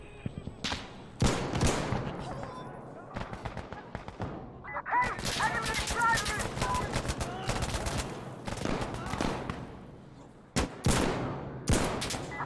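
Gunfire in the video game Insurgency: Sandstorm, loud bursts of automatic fire and sharp single shots that come in repeated volleys with short gaps, and a voice talks now and then between the shots.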